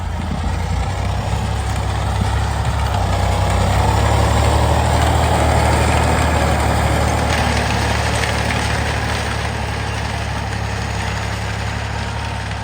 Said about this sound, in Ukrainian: трактор працює, коробка працює, по мотору все добре